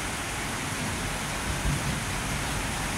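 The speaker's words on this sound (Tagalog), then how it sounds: "Ayan, bumubuhos na po yung ulan." Heavy rain pours down from a dark, overcast morning sky as a steady, loud wash of noise that stays constant throughout, with a brief low thump near the middle.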